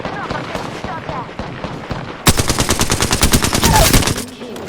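Rapid automatic gunfire in the video game Apex Legends bursts in as a dense, steady volley after a couple of seconds of quieter game noise and scattered shots, loud and close.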